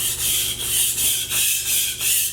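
A knife blade drawn across a sharpening stone with firm pulling strokes while raising a burr at the heel, giving six rhythmic, evenly spaced rasping scrapes, close and clear.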